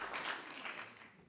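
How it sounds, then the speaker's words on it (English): Sparse, half-hearted applause from an audience at a National Press Club talk, a brief thin patter of a few hands clapping that fades out within about a second. "How sad applause was that?"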